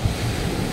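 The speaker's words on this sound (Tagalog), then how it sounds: "Sitwasyon ngayon, habagat na malakas po ang alon." Strong sea waves churn during the southwest monsoon, a continuous rumbling surf with heavy low roar and wind buffeting the microphone, close and loud with no voices.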